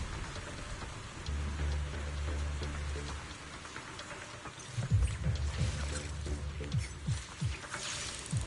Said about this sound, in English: The fact that there's a rainstorm in here is crazy.